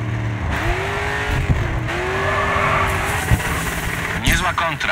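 A race car in GRID drifting through a corner, engine droning and rising with tires squealing in long sliding whines, loud and close, while someone talks over it.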